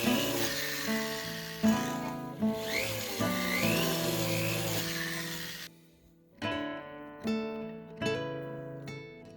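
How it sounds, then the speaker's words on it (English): Small setting burr in a rotary tool cutting into a sterling silver pendant, a high whining drill tone rising and falling in repeated short passes with brief pauses between. "Here I'm just using that little setting burr."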